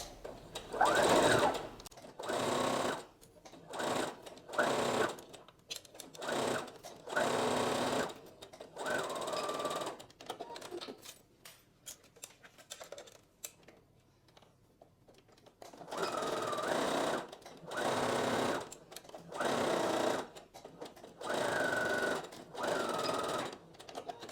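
A sewing machine stitching the V-neckline of a dress in a series of loud, steady whirring bursts separated by short pauses, with a longer quiet stretch in the middle while the fabric is repositioned.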